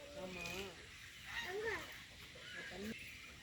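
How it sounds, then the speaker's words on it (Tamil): Water birds at Vedanthangal bird sanctuary call with honking, goose-like cries over a constant outdoor wash, and voices murmur faintly in the background. "ஒன்று வித்தியாசமாக கத்துதுங்க பறவை"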